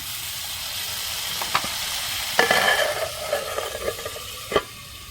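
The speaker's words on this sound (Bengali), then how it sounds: "সব কিছু এখন ভালো করে নেড়ে নেব" Mutton curry, dhaba style, stirred in a clay kadai, with steady sizzling under irregular scraping strokes of the spoon against the earthenware pot and a few louder knocks.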